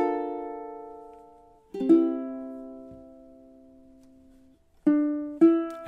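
Measures 15 and 16 of a song on ukulele: sustained plucked chords ring and fade, followed by a few sharper picked notes near the end, intimate and unaccompanied.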